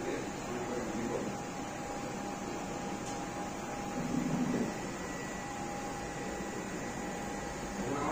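A VFD-controlled electric motor runs in reverse with a steady, faint mechanical hum and a thin constant whine, holding an even level throughout with a slight swell midway.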